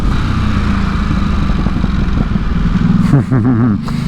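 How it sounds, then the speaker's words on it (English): A Ducati SuperSport 950S engine drones steadily up close through its standard exhaust, then revs rise and fall in a few quick throttle blips near the end. "you also get lovely pops and bangs from the standard exhaust"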